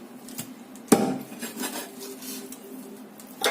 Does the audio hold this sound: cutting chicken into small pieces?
yes